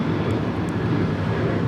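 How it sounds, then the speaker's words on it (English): Alaska Airlines Boeing 737-900ER jet taking off at LAX, a loud steady broadband engine roar filling the short stretch without letup. "This is Alaska Airlines 1430 taking off to Los Cabos on a 737-900ER"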